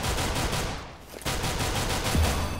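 Rapid gunfire from the video game CSGO during a hostage rescue round, a dense rattling burst of shots that continues loudly through the whole moment with a brief dip in the middle.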